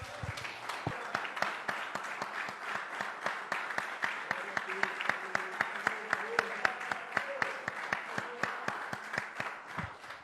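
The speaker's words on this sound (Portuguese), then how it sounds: "Você pode aplaudir o Senhor Jesus?" A church congregation applauds during a Portuguese-language worship service, many hands clapping in a fast, steady, rhythmic pattern, near and even. Faint voices can be heard underneath.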